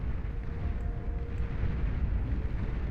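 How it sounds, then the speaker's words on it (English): A capital ship's artillery barrage in the naval battle of the Beyond All Reason strategy game, heard as a steady, dense rumble of distant booms that continues without a break. "You have to retreat way up to that northern side to escape the barrage right here of this capital ship"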